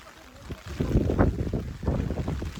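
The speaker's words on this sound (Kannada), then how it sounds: "ಹಿಂಗೆ ಹೊಡಿತಿದೆ ಗಾಳಿ." Gusty wind buffets the microphone in rising and falling rumbles during heavy rain with fog on a hillside walk in Munnar, Kerala, with a low voice faintly underneath.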